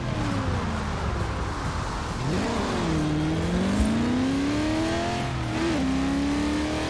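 Chevrolet Impala engine in the Forza Horizon 4 racing game, a loud steady drone that rises and falls in pitch as the car accelerates through gear changes, filling the clip with no talk over it.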